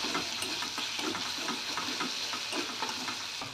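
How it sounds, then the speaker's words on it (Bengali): Ground spices and ginger paste frying in a pan for a vegetarian jackfruit curry, with a steady close sizzle and soft scraping stirs throughout, no voices. "আর দেবো সামান্য আদা বাটা। একটু ভালো করে ভেজে নেবো।"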